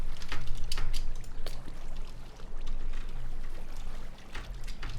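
Water being placed in the Minecraft video game, a continuous rushing, splashing flow with a few sharp clicks, loud and steady with a brief dip midway.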